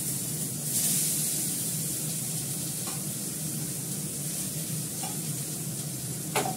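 Onions hit hot oil in a home kitchen pan, giving a loud, continuous sizzle and hiss with a few faint clinks of stirring, and no voices.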